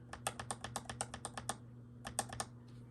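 Typing on lubed Razer Huntsman keyboard switches: a quick run of soft, muted keystroke clacks, a short pause, then a few more, close up and quiet with no talking.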